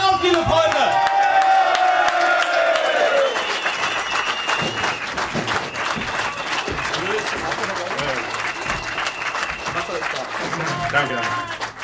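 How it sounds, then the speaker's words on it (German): A crowd at a political rally in Northeim, Germany breaks into sustained, dense applause with some cheering, starting loud and gradually settling, with a voice briefly heard at the start. "möchte ich jetzt mal einen tosenden Applaus, liebe Freunde"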